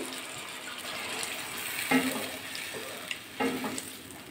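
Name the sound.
water poured into a paneer and potato curry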